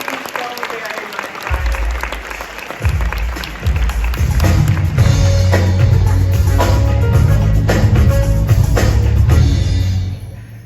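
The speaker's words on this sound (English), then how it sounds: "let's have another round of applause for our friends at Sprite" Audience applause fills a Disney Dreamers Academy commencement ceremony, starting with scattered claps and building into loud, sustained clapping from a large crowd, with a voice heard faintly over it before it fades at the end.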